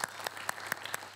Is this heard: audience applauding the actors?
yes